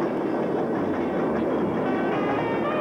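A train runs along the rails, a loud continuous rumble with rhythmic clickety-clack of the wheels and cars rolling close by, with no voices heard.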